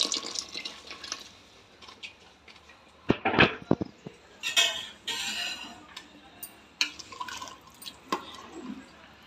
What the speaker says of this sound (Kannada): ನಾನಿಲ್ಲಿ ನಾಲ್ಕೂವರೆ ಅಷ್ಟು ನೀರು ಹಾಕ್ಕೊಳ್ತೀನಿ